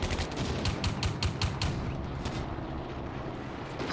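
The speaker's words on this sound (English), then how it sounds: "Panzer II is engaging one of those T-26s" A Panzer II tank fires on Soviet T-26 tanks in the Combat Mission World War II strategy game: rapid repeated gunshots over a dense rumbling battle din, thinning after a couple of seconds.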